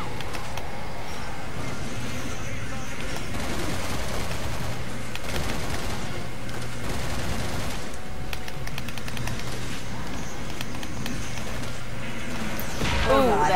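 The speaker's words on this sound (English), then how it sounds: "I'm shooting the air right now." Gunfire from the Resident Evil 6 video game, with shots fired into the air during co-op play as a dense, steady barrage of game sound effects and music, and people talking over it.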